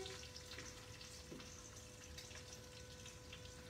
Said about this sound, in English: My tea's starting to boil.